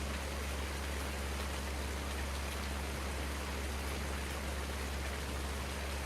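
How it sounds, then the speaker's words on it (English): Steady rain pours down in Farming Simulator 19, a dense, even hiss of falling drops with a low rumble beneath, constant and loud throughout with no voices. "By the way, I can't believe it's still raining."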